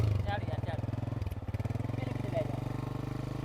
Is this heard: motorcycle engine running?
yes